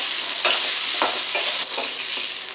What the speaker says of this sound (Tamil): மிதமான தீயில ஒரு ஒரு நிமிஷம் வதக்கி எடுத்துக்கலாம்